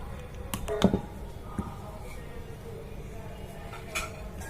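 Chopped onions and tomatoes being mixed in a bowl for a sandwich filling, with a few clinks and scrapes of a spoon against the dish, close and fairly quiet over a low background hum.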